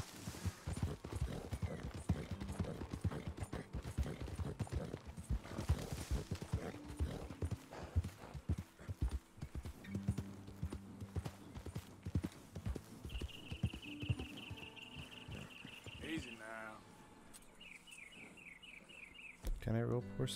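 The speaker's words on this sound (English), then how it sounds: "Got a horsey." Horse hooves clip-clopping steadily in the Red Dead Redemption 2 video game, a close rhythmic trot under a player's talk and game music, with a horse whinny near the end.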